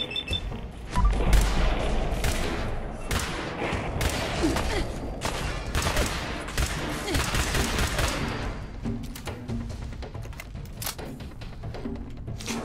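Laser rifle fire in the Fallout 4 video game: rapid, dense bursts of shots and impacts, loud and continuous for most of the stretch, thinning into scattered shots toward the end, with a voice faintly talking beneath.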